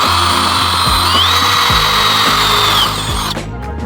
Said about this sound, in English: I'm gonna mark my holes, so that way I can get to pre-drilling.